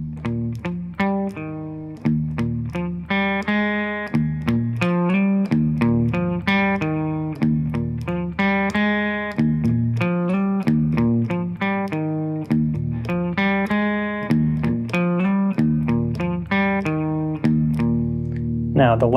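Slow, palm-muted electric guitar strums and chord changes form a steady, close, rhythmic pattern for about twenty seconds and end on a brighter strum.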